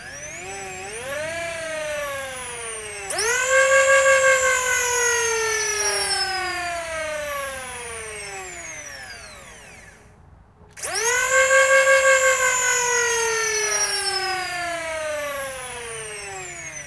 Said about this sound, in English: Now the rev down time is intentional to ensure that the thing doesn't get too hot, but that is way quicker.